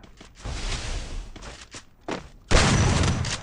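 Gunfire in the mobile shooter Free Fire, a lone-wolf match on a snowy ice map: a few muffled shots early on, then a loud, sustained burst of fire near the end.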